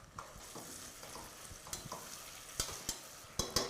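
Mint and coriander leaves sauté in a pan for chicken biryani, a soft low sizzle under irregular scraping and clinking strokes of a ladle, fairly quiet and near, no speech.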